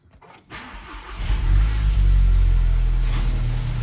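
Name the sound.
VW/Audi MQB car engine starting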